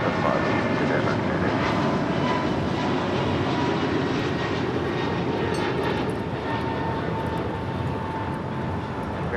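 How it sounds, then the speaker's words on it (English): American Airlines Airbus A321neo taking off from LAX, a sustained jet engine roar with a rumbling low end and faint whine, steady and somewhat distant, with a voice murmuring faintly beneath it. "Taking off, that was American Airlines flight 2656, heading to Philadelphia in an A321neo"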